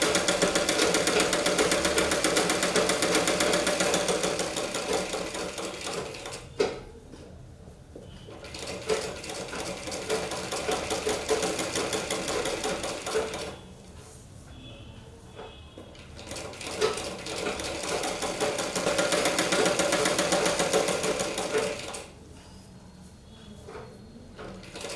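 A sewing machine stitches the back section of a blouse in long runs of steady, rapid whirring, broken by short pauses and small clicks between passes, close and clear with no talk.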